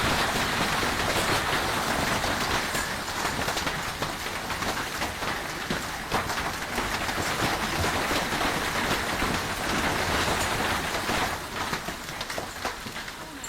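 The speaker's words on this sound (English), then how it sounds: "Golf ball-sized hail? That's a myth, but the residents of Arizona who witnessed this storm would definitely disagree with you." Golf ball-sized hail pounding down during a storm in Arizona, a loud, dense, continuous roar of impacts that stays steady throughout with no voices.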